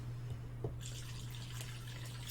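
Wine pours from a full box of wine, a faint, steady liquid trickle that starts partway through over a low constant hum.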